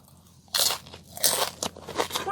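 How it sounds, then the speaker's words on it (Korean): Crispy basil pastry is bitten and chewed up close, with loud dry crunches and flaky crackling in several bursts. "페스츄리가 완전 바삭바삭합니다"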